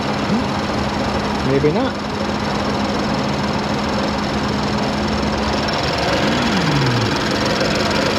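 A Ford Escape engine running with a cylinder misfire, a steady close idle with an uneven, knocking vibration throughout, and someone speaking briefly over it.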